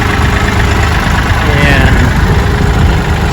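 A Kioti tractor engine runs at a steady idle, a loud continuous low rumble with rough mechanical vibration, while a voice briefly speaks over it.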